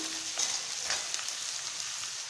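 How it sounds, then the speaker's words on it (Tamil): Chopped green chilli sizzling in hot oil in a home kitchen pan for egg curry, a steady close hiss with a few brief stirring scrapes and no voices. "இதையும் நல்லா இந்த எண்ணெயில் நல்லா வதக்கிக்கலாம்"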